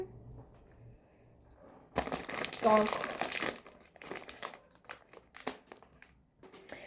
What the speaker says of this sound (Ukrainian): Давайте їх розпакуємо. Так, візьмемо ось такі ножиці.